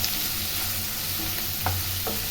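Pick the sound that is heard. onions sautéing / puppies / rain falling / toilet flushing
onions sautéing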